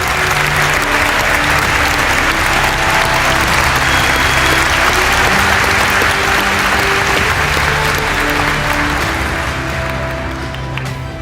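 An audience at a Cal Poly event applauds to welcome a speaker to the podium, with dense, loud, sustained clapping that tapers slightly at the end.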